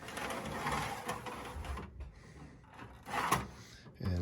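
An NCR PC4i computer unit slides out on its drawer with a scraping, rattling rumble, then comes to a pause. A short clatter follows near the end.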